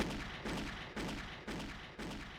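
Gunfire in a Unity Playmaker action-adventure game fires five evenly spaced heavy shots about half a second apart, each a broad burst with a short decay, faint overall and without talk.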